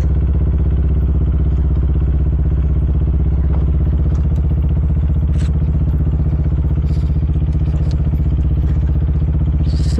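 Motorcycle engine running loud and close on a mountain road in Benguet, a steady rumbling putter with rhythmic mechanical clatter and occasional faint clicks on top, holding constant throughout.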